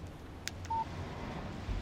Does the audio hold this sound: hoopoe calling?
no